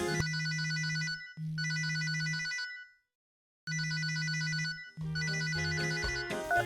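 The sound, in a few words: telephone ringtone ringing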